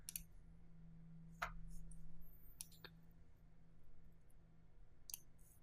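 Faint, crisp mouse clicks sound on a computer as the edit button is pressed, a few sharp isolated ticks spaced apart over a quiet background.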